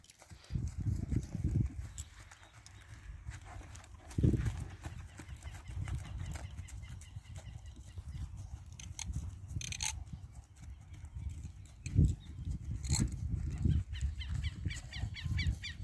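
Soft clip-clop of a dun roan horse's hooves on hard ground at a relaxed walking pace, fairly quiet, with some faint background noise and occasional louder knocks.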